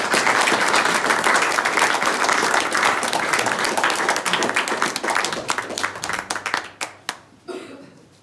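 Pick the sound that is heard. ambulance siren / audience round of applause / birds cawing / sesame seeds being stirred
audience round of applause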